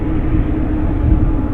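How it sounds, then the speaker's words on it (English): A Boeing 787 Dreamliner arriving at Vancouver Airport from Toronto gives off a steady, loud low roar, heard alone for a brief moment. "that's the Toronto-Vancouver Dreamliner"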